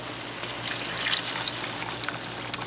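About a quart of cold water pours steadily into a cooking pot for a meat ragu, a continuous close splashing gush with no talking.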